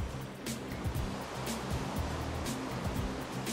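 Placed water flowing in Minecraft gives a continuous soft rushing and bubbling wash, steady and close, with no one speaking.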